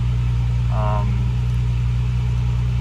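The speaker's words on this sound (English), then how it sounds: "I wanted you to hear the engine." A Volkswagen Passat R36 Variant with 123,000 kilometers idles close by with a steady low hum throughout, and a brief voice cuts in over it for a moment.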